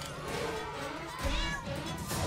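A cat meowing during a fight in the video game South Park: The Stick of Truth, a couple of short whiny cries mixed with game effects and a low rumble, fairly close and moderately loud.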